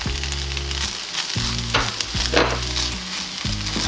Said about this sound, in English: I'm going to add my rice and stir fry for a couple more minutes